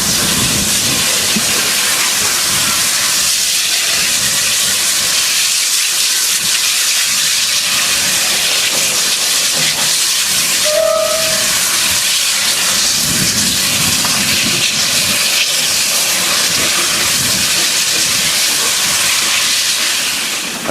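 A pair of Chinese QJ steam locomotives passes a locomotive shed heading west, a loud continuous rush of steam and rumbling wagons with a short whistle tone partway through.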